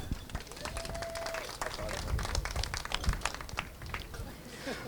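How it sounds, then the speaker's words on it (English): Wedding reception guests applaud the maid of honor, a lively crowd of clapping and cheering in a large hall, with voices and a brief whistle-like tone mixed in. "let's go big applause to the maid of honor"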